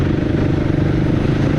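A motorcycle labours up a rough, bumpy mountain road on the way to Kathmandu, its engine a steady, loud, close drone with rattling clatter running through it and no pauses.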